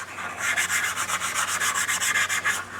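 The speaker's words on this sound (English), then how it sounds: "also I like to use a little bit of Scotch-Brite to rough them up" Scotch-Brite pad scuffing seat belt parts for a Jeep FSJ, a quick run of rhythmic back-and-forth rubbing strokes, close and steady with no talk.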